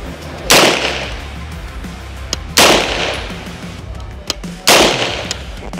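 Three loud, sharp gunshot bursts from a UTAS UT9-M Mini fired at a range, spaced about two seconds apart, each with a short ringing decay, with faint background noise and a small click between shots.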